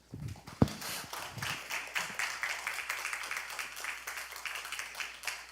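A church congregation at a Friday worship and prayer meeting claps to welcome the pastor, a dense burst of applause rising after a sharp knock and continuing evenly throughout.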